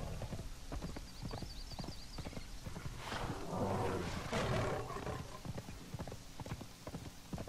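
Rapid rhythmic hoofbeats of a galloping horse in the video game Conan Exiles, with a snarling animal roar swelling briefly midway before the steady clip-clop continues.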